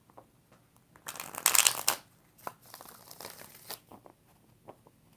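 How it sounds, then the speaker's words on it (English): Tarot cards are shuffled in quick bursts, with one loud riffling flurry followed by lighter, scattered flicks and taps, close and without talk. "2 more. 2 more shuffles, baby."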